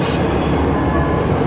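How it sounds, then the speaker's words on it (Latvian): A tram in Czechia rolls along its rails, a loud steady rumble with a constant wheel and track roar throughout. "tramvajs kustās."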